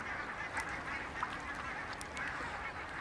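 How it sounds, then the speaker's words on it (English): Ducks, swans and coots call from the last open holes in a freezing lake, a faint, steady wash of honks and quacks over a broad background hiss. "Ducks, swans and coots huddle together in the last open water holes"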